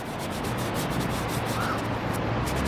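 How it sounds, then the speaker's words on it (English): A number 8 natural bristle flat brush scrubs oil paint onto a panel in a plein air setting, giving a close, continuous dry rubbing and scratching sound without pause. "I'm using a number 8 natural bristle flat to scrub in the color."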